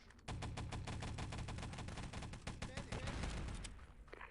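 Dense automatic gunfire in a multiplayer shooter video game, loud rapid bursts running almost continuously, with faint voices underneath.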